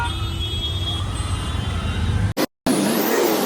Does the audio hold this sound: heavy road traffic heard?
yes